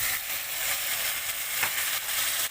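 Tomatoes going into a pan of sautéed onion and garlic for an anchovy curry, a continuous crackling sizzle with a soft stir-like knock, close and even, with no voices.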